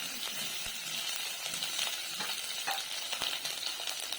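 Onion frying in hot oil with fennel seeds, a dense continuous sizzle with frequent stirring taps and scrapes close up, no voices.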